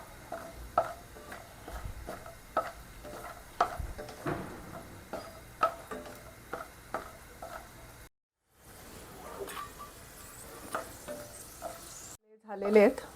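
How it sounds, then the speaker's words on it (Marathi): Peanuts frying in hot oil sizzle quietly while a spoon stirs and clicks against the pan in irregular taps, broken by brief silent gaps and a louder clatter near the end. "तेल तापते, मी शेंगदाणे घालते आधी सुरुवातीला"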